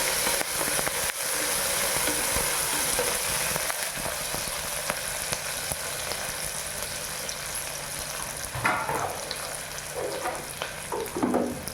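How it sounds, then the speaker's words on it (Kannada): Onions and curry leaves frying in a pan give a steady, close broadband sizzle that runs the whole time, with a few louder crackles and stirring scrapes near the end. "ಈರುಳ್ಳಿ ಸ್ವಲ್ಪ ಚೆನ್ನಾಗಿ ಫ್ರೈ ಆದಮೇಲೆ ನಂತರ ಕರಿಬೇವು ಸೊಪ್ಪನ್ನು ಹಾಕ್ಕೊಳ್ತೀನಿ. ಚೆನ್ನಾಗಿ ಫ್ರೈ ಮಾಡಿ"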